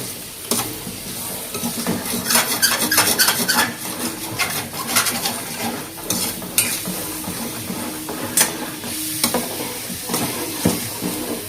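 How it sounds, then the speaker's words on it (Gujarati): Mawa milk solids for pedas are stirred in a pan over a low gas flame, a close, continuous scraping and sizzling with irregular clanks of the spoon against the metal and no talk. "અડધી કલાક જેવું તો હલાવવું પડશે આને, ત્યારે ઠીક થશે"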